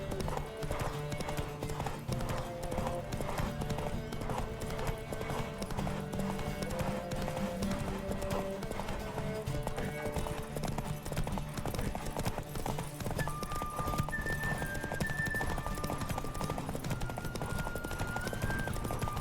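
A horse in The Witcher 3: Wild Hunt, fitted with upgraded gear, gallops during a race with steady, rapid hoofbeats running the whole time, loud and close, under game music.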